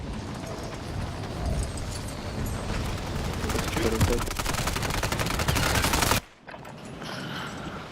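Rapid automatic gunfire and bursts of shots from the video game Warzone, loud and dense for about six seconds before cutting out abruptly, followed by quieter game ambience.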